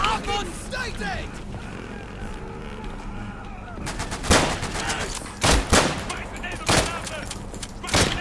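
Gunfire in the World War II shooter Day of Infamy cracks out in several sharp, loud shots and short volleys, spaced irregularly over the latter half, with voices talking in the background.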